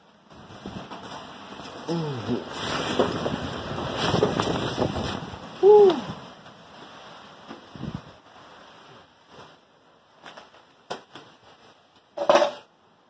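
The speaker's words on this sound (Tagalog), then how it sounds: "Pero malakas yung hangin." Strong gusts from a typhoon in Angeles City, Pampanga buffet the microphone in a roaring, uneven rush, with someone talking between bursts and a few sharp knocks.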